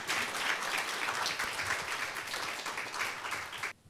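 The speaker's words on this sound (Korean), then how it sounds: "응원의 박수 너무 기대됩니다" Sustained applause from an audience at a disability empathy talk show event, a dense even wash of clapping that cuts off abruptly near the end.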